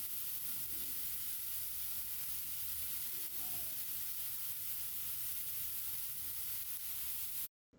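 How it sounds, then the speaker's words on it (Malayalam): Chicken pieces fry in a hot, lightly oiled pan, a steady close hiss of sizzling that stays even and continuous before cutting off abruptly at the end. "പാൻ നന്നായിട്ട് ചൂടാക്കി അതിൽ കുറച്ച് എണ്ണ തടവി കൊടുക്കാം എന്നിട്ട് ഓരോന്നായിട്ട് ഇതിലേക്ക് വെക്കാം"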